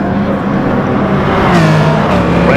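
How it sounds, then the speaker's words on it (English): Touring race cars revving up together for a standing start at Brands Hatch in a racing video game, a loud sustained engine roar building steadily with rising pitch and no talk over it. "Revs are up and away they go"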